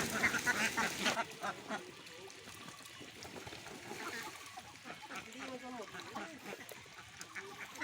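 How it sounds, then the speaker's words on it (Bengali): Ducks quack in scattered bursts nearby at a duck farm, mixed with light splashing water, while a person talks over them. "হাঁসগুলো ছাড়লাম দেখেন কত দ্রুত হাঁসগুলো সব ধরে যেতেছে"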